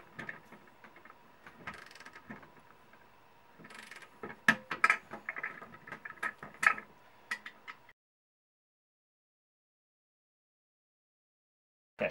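A 1/4-inch drive torque wrench tightening a standing seam roof anchor gives off a rapid run of close ratchet clicks in short bursts with sharper snaps, then falls silent before one final click.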